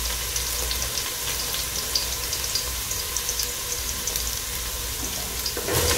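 Greens frying in a pan for a Kenyan dinner sizzle steadily and close by, a dense hiss with faint scraping, no talking, the texture shifting slightly near the end.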